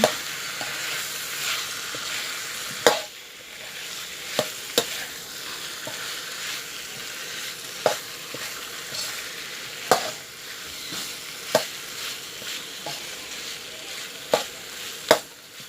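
A spoon works red curry paste around a pan for roast duck curry, giving a soft continuous frying sizzle punctuated by sharp, irregular metal scrapes and taps against the pan, with no talking.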